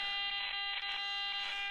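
A Baofeng UV-5R handheld radio gives a steady electronic buzz with pulsing tonal hum, caused by interference from a nearby Nano VNA, continuous and fairly close throughout.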